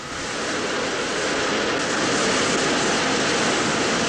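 A jet aircraft engine runs up to full power on an aircraft carrier deck before a catapult launch, a loud, steady, rising roar that swells over the first seconds and then holds at full strength, with no talk.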